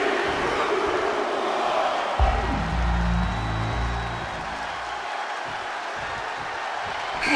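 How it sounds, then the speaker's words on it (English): A video game arena crowd at a WWE 2K22 Elimination Chamber wrestling match roars steadily throughout, with a low rumbling surge in the middle. "Just listen to the crowd!"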